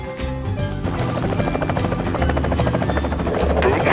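A helicopter lifts off in a kids' 3D construction video game, its rotor making a loud, steady, buzzing drone that holds throughout and swells slightly toward the end.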